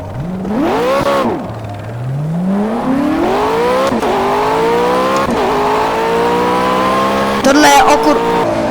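A race car at Italy's Monza circuit in the Project CARS video game screams through its gears, the engine pitch climbing steadily and dropping back at each upshift. The car is loud and close, with a voice briefly heard alongside it.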